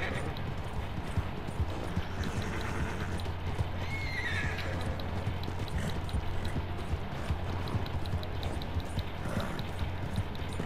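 A horse in the video game Red Dead Redemption 2 trots with steady hoof clip-clops, gives a brief neigh partway through, and is accompanied by a constant low hum, with no one speaking.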